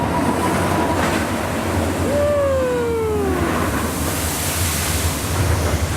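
The Sheikra roller coaster at Busch Gardens Tampa Bay skims through its splash pool, a broad, steady rushing wash of spraying water with a brief tonal whine in the middle.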